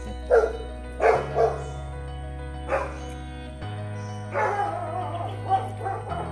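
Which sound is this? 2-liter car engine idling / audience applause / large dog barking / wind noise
large dog barking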